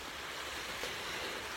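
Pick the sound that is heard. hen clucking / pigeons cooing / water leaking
water leaking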